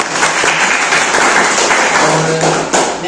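A room full of people gives a loud, steady round of applause, dense clapping that holds evenly for several seconds with a few sharper claps standing out near the end.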